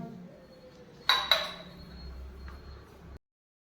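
Kitchen utensils knocked to the floor by a small child land with two sharp metallic clatters in quick succession, then a fading ring over a quiet room.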